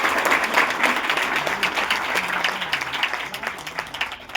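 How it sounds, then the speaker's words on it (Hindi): An audience at a model youth gram sabha village meeting claps loudly for village tree planting, a dense, sustained round of applause filling the whole stretch with little letup. "अरे आप लोग इसके लिए एक बार जोरदार ताली बजाएं।"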